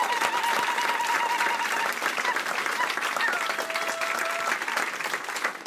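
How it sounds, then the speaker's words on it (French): A church congregation applauds, a dense, steady wash of many hands clapping throughout, with faint voices and cheers mixed in. "tous ceux qui croient que Dieu a un avenir et une espérance pour nous disent Amen et applaudissent le roi des rois"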